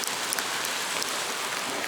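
Freezing rain falling outdoors in sub-zero winter weather in Canada, a steady dense hiss of drops hitting and icing over surfaces, close and even throughout with no voices.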